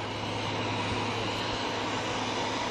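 A helicopter, reportedly carrying Donald Trump, arrives in Zurich, heard as a steady, broad engine and rotor roar at moderate distance with no voices.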